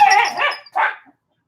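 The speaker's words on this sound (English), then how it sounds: "Well, now she's not barking like a mad woman." A pet dog barks close by outdoors, two sharp barks in quick succession, the second shorter, followed by silence.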